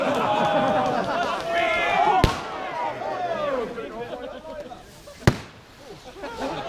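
Airsoft pyrotechnic grenade during an outdoor game, two sharp sudden bangs a few seconds apart over a busy background of shouting players and chatter.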